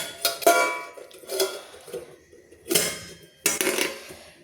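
A lid set down over a cooking container makes four separate metallic clanks a second or so apart, close and fairly loud against a quiet background.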